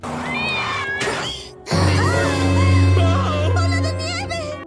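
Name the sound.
cat meowing in The Simpsons cartoon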